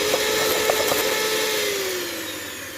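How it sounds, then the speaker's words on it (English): An electric whisk beating frothy eggs with sugar for amaretti biscuits, a loud continuous motor whir close up whose pitch slowly sinks toward the end, with light rattles of the beaters against the bowl. "Now that my eggs are frothy, I'm going to add some of the sugar, and I'm going to whisk again."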